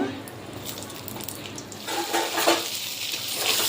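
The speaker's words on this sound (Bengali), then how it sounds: "এবার পটলগুলো দিয়ে দিলাম। পটলগুলো একটু ভেজে নেব।" Pointed gourds sizzling and crackling in hot oil, the frying growing louder partway through, with light stirring sounds.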